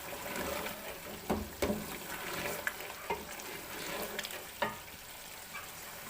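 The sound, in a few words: frying spices with cumin and dry coriander in pan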